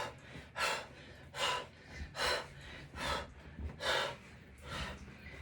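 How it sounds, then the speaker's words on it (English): Rhythmic Wim Hof breathing after an ice bath, with six or so sharp, forceful breaths at close range spaced about a second apart and quiet pauses between them. "Do my Wim Hof breathing"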